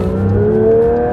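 Porsche 911 GT3 engine held at high revs, a loud steady whining drone with strong sustained harmonics that rise slightly, close and continuous with no voices.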